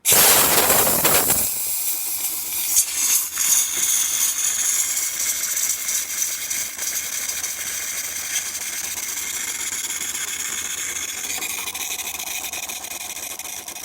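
A steady machine hum and hiss runs throughout, with a louder burst and clatter at the start, as a DeLonghi Magnifica espresso machine dispenses hot water.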